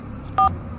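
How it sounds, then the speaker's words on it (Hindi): A phone keypad is dialed to call a pandit: one short, clear electronic dial tone sounds alone against a quiet, low room hum. "पंडित को फोन लगाता हूँ।"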